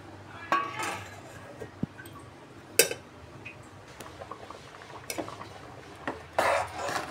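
Jaggery sweet in a pot on low flame being stirred, with scattered close metallic clinks and scrapes of a spoon against the pot between quieter gaps.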